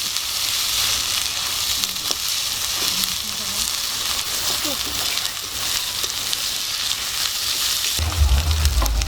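Onion, ginger and garlic fry in hot mustard oil with a little sugar, giving a loud, steady sizzle throughout, ending with a heavier clatter of stirring.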